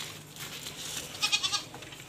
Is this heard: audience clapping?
no